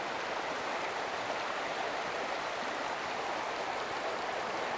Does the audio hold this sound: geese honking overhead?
no